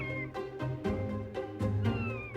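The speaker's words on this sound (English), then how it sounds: "Sure, cats meow." A domestic cat meows repeatedly, several close, clear, drawn-out calls in a loose rhythm with short gaps between them.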